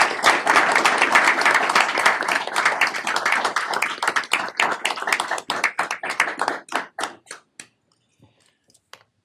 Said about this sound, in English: Let's give a big round of applause to our business office.